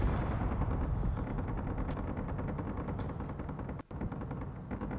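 Automated turrets in Space Engineers blast away at a drifting pirate ship in a rapid, continuous stream of heavy gunfire, loud and rumbling, with a brief dropout near the end.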